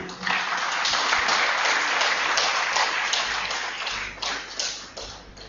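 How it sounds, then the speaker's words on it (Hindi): An audience welcomes speaker Rajiv Dixit at a lecture with dense, loud applause that holds steady for several seconds, then thins into scattered claps toward the end. "आप जोरदार तालियों से उनका स्वागत करें।"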